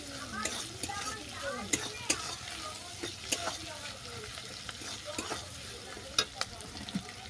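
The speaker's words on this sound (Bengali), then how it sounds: "ডিমটা ভালোভাবে ভাজা হয়ে গেছে সবজির সঙ্গে মিশিয়ে নিলাম" Egg and vegetables for muri chowmein sizzle steadily in a pan while a utensil scrapes and clicks against the metal at irregular moments, close and moderately loud.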